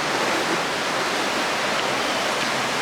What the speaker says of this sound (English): listen and look at the water run by